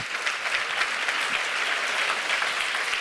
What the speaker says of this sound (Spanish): Y denle un aplauso a ese Dios feliz.